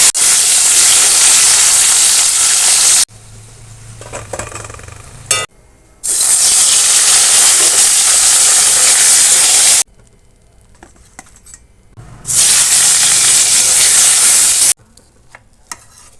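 Potato, brinjal and pointed gourd slices, coated in salt and turmeric, frying in hot oil, with loud close sizzling bursts that stop and start again between quieter stretches.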